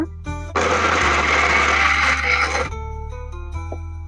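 A blender grinds orange peels, with a loud, dense whirring roar that runs for about two seconds before cutting out, and a low hum before and after.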